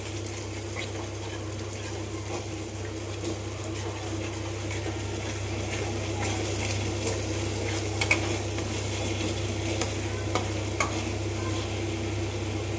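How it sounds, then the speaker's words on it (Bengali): Spice masala with sour yogurt is stir-fried in a pan, making a steady, close sizzle and frying hiss with continuous stirring scrapes throughout and no talk. "এবার দেখো, টক দইটাকে ভালো করে এর সাথে কষিয়ে নেব।"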